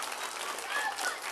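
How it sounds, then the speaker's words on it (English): An audience at a library show claps steadily, a continuous wash of applause heard from the room, moderately loud and without pauses. "Oh, now you can clap real loud."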